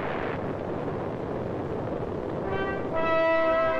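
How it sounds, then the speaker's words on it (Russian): A Soviet RDS-220 Tsar Bomba hydrogen bomb of 50 megatons explodes in a 1961 test, a loud, sustained roaring rumble that swells toward the end as a steady tonal drone joins in. "был произведен взрыв чистой водородной бомбы"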